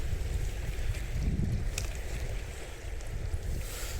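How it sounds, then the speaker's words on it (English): Wind buffets the microphone in low rumbling gusts at the coast at Stonehaven, steady and loud across the whole stretch with no talking. "Right, so it's windy today."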